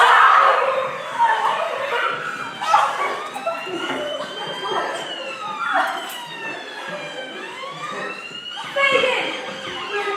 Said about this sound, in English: They're sirens. They're coming, Fagin. Coming for us.